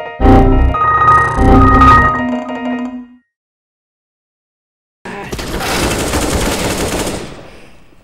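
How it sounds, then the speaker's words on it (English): Rapid automatic gunfire in Counter-Strike: Global Offensive during a bomb-defusal round: two quick loud bursts with ringing tails, a few seconds of near-silence, then a longer sustained volley of shots, all close and loud. "I missed the shot twice."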